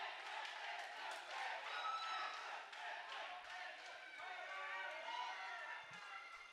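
A large crowd cheers and roars in a steady, excited wash during a women's doubles semi-final match, heard from a distance with voices blending into the noise.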